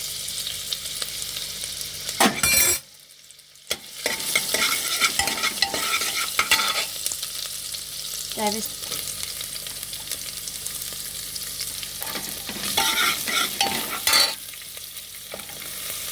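Ginger-garlic paste frying in a cooker for a corn and egg soup gives a steady loud sizzle, interrupted by short stirring bursts and one brief drop to near silence, with no talking.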